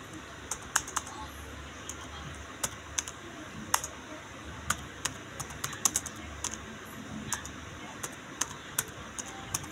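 Keystrokes on a computer keyboard entering figures into a shop cashier app, a steady irregular stream of sharp, close clicks with occasional quicker bursts over a faint background hum.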